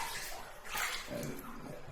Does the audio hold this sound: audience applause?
no